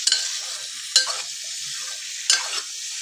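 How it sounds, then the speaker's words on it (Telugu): Ivy gourd (dondakaya) frying in oil gets stirred, a bright steady sizzle broken by three distinct scraping stirs of a utensil against the pan, close and clear. "ఇప్పుడు ఒకసారి మంచిగా కలుపుకుందాం"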